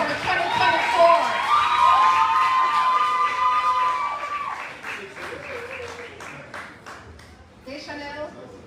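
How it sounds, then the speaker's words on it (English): An audience at a 2024 student debate competition final applauds and cheers loudly, with shouts and whoops over sustained clapping that gradually thins out, and voices mixed in. "Ladies and gentlemen, please applaud the students of the Paul Bogle and the Warriors Debate Competition for 2024."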